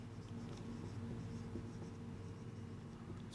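A pen writing an accounting entry by hand, faint scratchy strokes over a steady low background hum, with no talk.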